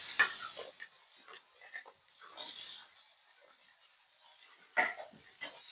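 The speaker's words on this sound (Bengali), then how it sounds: "এবার দিয়ে দিব আগে থেকে কেটে রাখা গাজর ও আলু" Chopped carrots and potatoes go into a frying pan for semolina pulao and are stirred, giving soft scattered thuds and scraping strokes over a faint sizzle, close and without talk.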